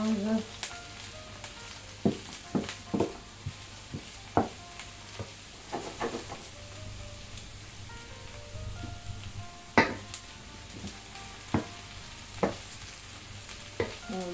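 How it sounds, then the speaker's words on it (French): Aubergine frying in a pan as it is stirred, a steady sizzle broken by repeated scraping and knocking strokes of the spoon at irregular intervals, close up, with no talking. "Je mélange."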